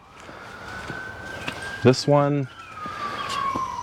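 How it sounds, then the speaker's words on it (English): Police sirens pass outside, a steady wail falling slowly in pitch from near to farther off, with someone speaking briefly over them in the middle. "sorry for the sirens"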